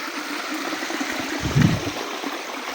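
Clean water flowing out of the ground into a shallow channel, a soft continuous trickle with a brief gurgling swell midway, close and fairly quiet, no talk.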